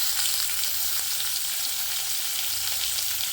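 Broad beans sauteing with garlic and onion in a hot pan, a steady, dense frying sizzle that carries evenly and closely throughout with no voices.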